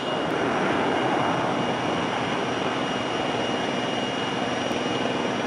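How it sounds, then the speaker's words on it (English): Airplane engine drones steadily at Nashville airport, heard from inside the aircraft cabin. A loud, constant broadband roar with no breaks, no talk over it. "Inside the airplane, ready to go."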